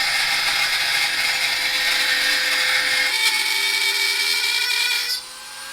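A Dremel rotary tool fitted with a special hard bit grinds steadily for about five seconds, a loud, sustained high-pitched whine that drops away abruptly at the end.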